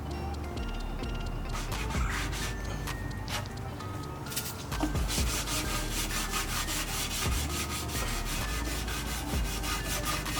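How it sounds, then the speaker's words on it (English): Someone scrubs the surface of an Acura TSX by hand, with rapid, rhythmic rubbing strokes in bursts, close and fairly loud, with no speech. "I'm gonna just scrub this shit really quick"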